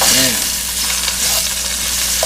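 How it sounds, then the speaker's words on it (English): Food sizzles steadily in hot bacon grease as it is sautéed and stirred, with a close, continuous crackle and a few scraping stirs. "season them and saute them in this bacon grease"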